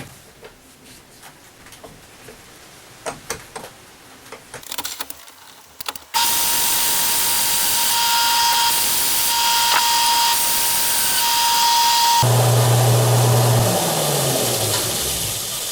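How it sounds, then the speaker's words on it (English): A wood lathe spins a spalted mango vase with a steady broadband hum and whine, joined partway by a loud continuous hiss of cutting as the inside is hollowed out, a low tone entering near the end. "I'm going to core up, hollow it out a little bit deeper inside."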